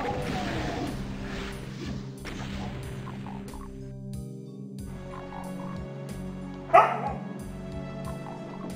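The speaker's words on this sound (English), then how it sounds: "Sorry about my dogs barking in the background." Dogs bark in the background of a multiplayer game session, with a few scattered barks, one sharp louder bark standing out near the end, while game sounds continue.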